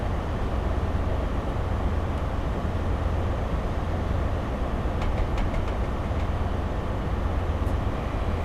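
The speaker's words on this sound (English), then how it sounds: "There's the train that we almost rammed into and that has been holding us up for the last 20 minutes." A train in the Train Sim game rolls past near Dunblane on a high-speed run, a steady, loud, broadband rumble of wheels and engine that holds for the whole stretch with faint metallic squeals near the end.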